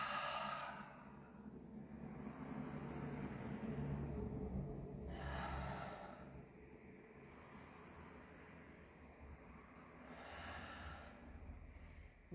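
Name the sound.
deep breathing during yoga exhale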